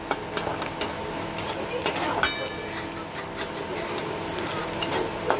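Onions frying in a pan with salt added crackle and sizzle steadily, broken by sharp clicks and taps of a spoon stirring against the pan, while someone talks over the cooking.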